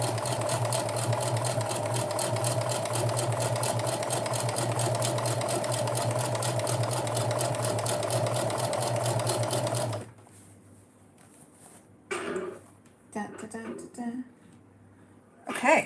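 A sewing machine stitches fabric in a fast, steady mechanical whir and rapid ticking for about ten seconds, close and fairly loud, then stops, followed by quiet handling noises and brief speech.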